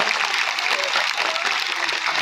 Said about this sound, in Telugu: అందరికీ గారి గట్టిగా చప్పట్లు కొట్టాలి అందరూ ఇంకా గట్టిగా ఇంకా గట్టిగా